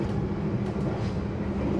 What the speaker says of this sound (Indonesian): kereta Argo Bromo Anggrek masih terus melaju menuju tujuan akhir di Jakarta